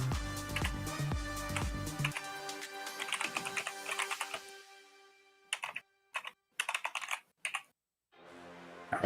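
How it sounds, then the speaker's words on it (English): Computer keyboard typing at a day-trading desk comes in quick clustered bursts of clicks separated by brief silences, fairly close and faint, with a soft tonal sound underneath. "We can hear your keyboard, Johnson."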